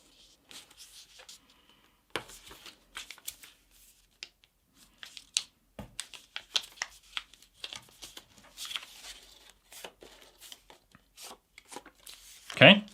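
Paper is folded and creased by hand while making a tube paper airplane. The crinkles and scrapes come in short, close bursts between stretches of talk, ending in a louder rustle.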